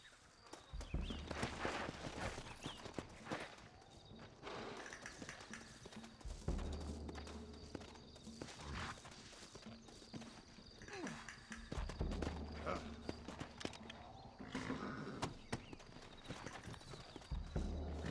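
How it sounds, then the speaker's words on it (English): Horses' hooves clip-clop across the ground in the Red Dead Redemption video game, a busy run of irregular hoof beats with heavier thuds now and then, heard close and fairly quiet with faint game sounds mixed in. "Looks like Carlos left us some horses."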